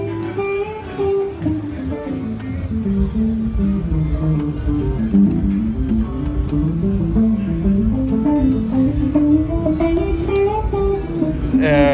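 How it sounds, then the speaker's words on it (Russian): Guitar played at a neighbouring stand at the NAMM Musikmesse 2018 trade show, a faint melodic line beneath a steadily sounding organ amid a busy, reverberant hall. "а вы слышите, на самом деле, гитару, которая из другого стенда играет на заднем плане."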